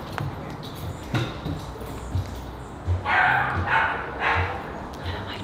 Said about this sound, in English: My dog's always barking.